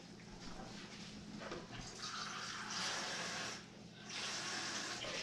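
Water runs steadily from a tap into a measuring cup for chocolate cake batter, a close, continuous splashing with a brief dip before it resumes.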